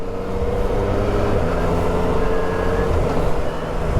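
A 2018 Yamaha MT-09 motorcycle with a budget quickshifter, engine droning loud and close with a steady harmonic tone and small shifts in pitch as gears change under acceleration, with no talking.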